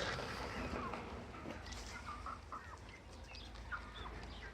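Young hens peck and cluck softly while eating soaked wheat in a coop, with faint chirps and quiet scratching over a steady low background hum.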